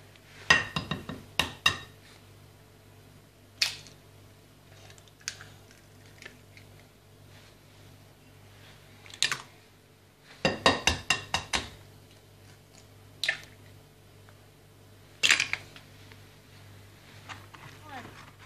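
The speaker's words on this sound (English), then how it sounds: "Crack the egg. And mix it." Eggs being cracked and mixed for scones in a kitchen, heard as scattered sharp clinks and taps of shell and utensil against a bowl in short bursts, with quieter gaps and a low steady hum underneath.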